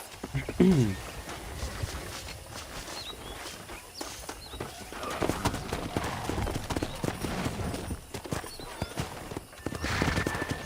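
Horses in the video game Red Dead Redemption Remastered on PS5 whinny and hooves clop on the ground amid outdoor bustle, with a loud neigh near the start and scattered footsteps and movement after.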